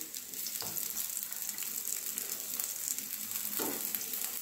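Ragda patties fry in hot oil in a pan, giving a steady close sizzle throughout with a couple of soft spatter bursts.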